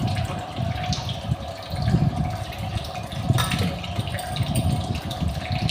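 Water is poured over unpeeled new potatoes in a pressure cooker before boiling. A continuous close gush and splash runs steadily with slight surges, and no voices.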